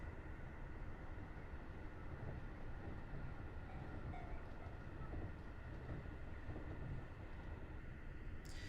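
Continuous rumble and rolling noise of a train running along the track in the video game Train Drive ATS 3, steady and dense, with no talk over it.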